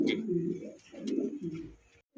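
Pigeons coo in soft, throaty bursts close by, two or three rolling calls with brief gaps between them, ending in a short break before another faint sound.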